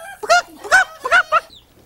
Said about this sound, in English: there's a chicken scratching in the dirt